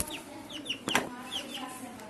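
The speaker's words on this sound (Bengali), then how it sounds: "3টা কোয়েল পাখি আনছি।" Caged quail give short, faint chirping calls in a few quick bursts, with one sharper squawk, over quiet indoor background noise.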